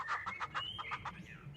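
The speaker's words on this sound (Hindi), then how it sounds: "एक मुर्गी तो है" A hen gives a quick series of six or seven short, rhythmic clucks that end in a drawn-out note, faint and alone.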